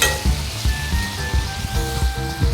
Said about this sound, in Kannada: ಈಗ ಟೊಮೆಟೊವನ್ನು ಎಣ್ಣೆಯಲ್ಲಿ ಸ್ವಲ್ಪ ಹೊತ್ತು ಫ್ರೈ ಮಾಡಬೇಕು.